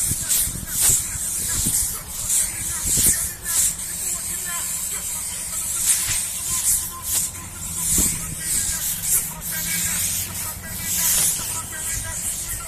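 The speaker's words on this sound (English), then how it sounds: "I gotta spray my shit because slime wanna touch it" An aerosol can sprays outdoors in repeated short hissing bursts, some close and loud, some shorter, spread through the stretch while someone talks over it and traffic noise rumbles in the background.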